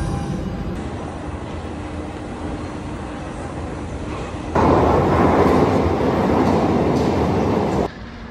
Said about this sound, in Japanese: 電車乗ります。